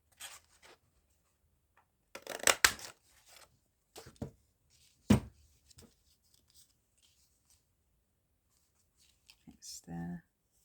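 Scissors cutting textured blue cardstock, scattered close snips and crisp paper rustles with pauses between, ending in a short soft murmur of voice.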